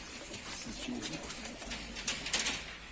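Pigeons coo softly in a breeding coop, a low, faint murmur with light background rustle and some voices nearby.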